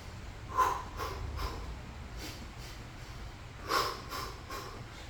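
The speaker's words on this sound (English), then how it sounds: "Inhale, exhale." Two loud, deliberate breaths taken during a stretch in a garage workout, each a strong airy exhale with a few softer breathy pulses after it, close to the listener and with no talk over them.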